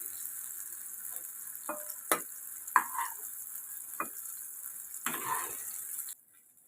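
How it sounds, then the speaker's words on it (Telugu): Finely chopped tomatoes fry in oil in a pan, giving a steady close sizzle with a few clattering stirs and scrapes, then the sound cuts off near the end. "ఇప్పుడు ఇదే ఆయిల్లో మనం ముందుగా తీసుకున్న టమోటాలని సన్నగా కట్ చేసుకొని బాగా ఫ్రై చేసుకోవాలి"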